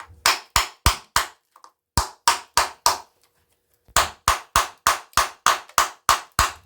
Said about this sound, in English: Make sure I hit it all around.